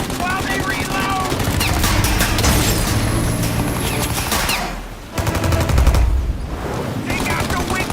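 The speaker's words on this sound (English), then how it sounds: "Shoot the gun! Take it out while it reloads!" Dense bursts of automatic gunfire from a car-chase shootout in the video game Mafia: Definitive Edition, loud and continuous with engine roar beneath and a short lull, while characters shout over the shooting.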